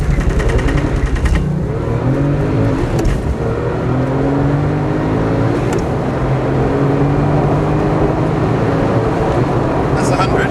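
Porsche 997 GT2 sports car launches off the clutch from about 4,500 revs and accelerates hard, a loud, close engine roar climbing steadily in pitch through the gears, with someone talking over it.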